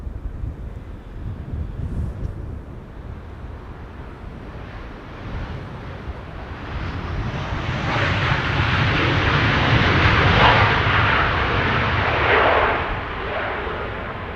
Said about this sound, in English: Transavia over here is approaching runway 27,